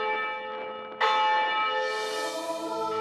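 Church bells ring from the bell tower of a church in Iloilo or Capiz: a sustained metallic tone, then a louder fresh strike about a second in whose bright overtones hang and slowly fade.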